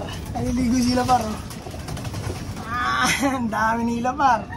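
Pigeons bathing outdoors give soft, intermittent cooing amid ongoing splashy background noise, with someone talking nearby through most of it.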